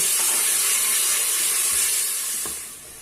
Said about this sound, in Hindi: और इसको थोड़ी देर के लिए फ्राई करेंगे अच्छी तरह से ताकि ये जो है ना मसाले का कच्चापन खत्म हो जाए।